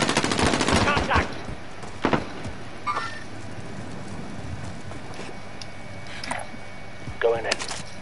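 Gunfire in a PS4 shooter game, with a burst of rapid shots at the start and scattered single shots later, mixed in with game sounds.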